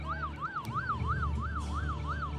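An ambulance siren sounds during a disaster evacuation and search-and-rescue simulation, wailing in a steady rising and falling cycle at moderate distance, alone without talk.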